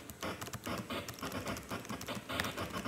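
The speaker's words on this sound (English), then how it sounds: "I set it to noise and I went down here to the lower keys," Magical8BitPlug synth in GarageBand set to its noise channel and played on the lower keys gives gritty, crackly retro 8-bit noise bursts in a quick, uneven rhythm, like a rough beat.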